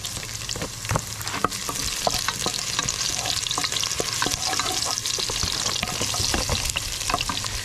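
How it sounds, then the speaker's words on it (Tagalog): Bitter gourd (ampalaya) sautéing in a pan at an outdoor mountain picnic, a steady close sizzle with frequent scraping and clinking stir strokes throughout, no voices. "So magluluto tayo ngayon ng ating ginisang ampalaya."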